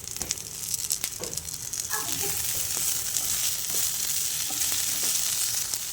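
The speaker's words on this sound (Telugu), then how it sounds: "వీటిని కూడా ఒక 2 మినిట్స్ పాటు ఫ్రై చేసుకుందాం." Garlic cloves and chopped coriander stems fry with brinjal in hot oil, giving a steady close sizzle broken by scattered crackles and pops, with occasional stirring scrapes.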